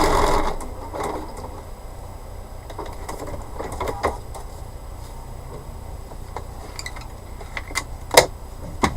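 A sewing machine stitching a bumble bee quilt block in foundation paper piecing, running in short mechanical bursts with light ticking and clicking, close and fairly steady, with no talk.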